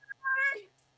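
A cat meows once, a clear drawn-out call close by, with a short chirp just before it and a faint squeak after, with no other voices.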